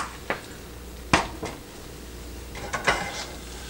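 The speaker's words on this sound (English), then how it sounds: "I'm gonna take off this lid." A few sharp metallic clinks and clatters of a lid being lifted off a nonstick pan used to cook eggs in a gray silicone kitty cat egg mold, spaced out and fairly close, with no talking.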